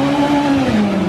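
A truck doing a burnout during laps gives off a loud, sustained engine roar with a steady high-pitched whine that slowly drops in pitch.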